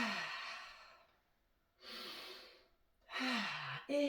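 A slow exhalation during a functional training breathing exercise, heard as soft, close breathy rushes in a quiet room, the last one sliding down in pitch like a sigh.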